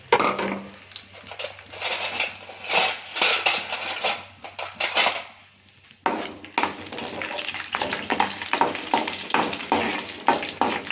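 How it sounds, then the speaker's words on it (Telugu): Dry fruits fry in ghee in a kadai on a stove, giving a continuous close sizzle broken by spoon scrapes and stirring clinks, with a brief lull midway before the frying noise resumes. "తర్వాత డ్రై ఫ్రూట్స్ వేసి వేయించుకోవాలి."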